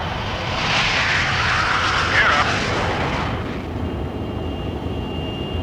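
Inside a 1971 airliner cabin at cruise, the engines and airflow make a steady, broad roar that fades slightly toward the end.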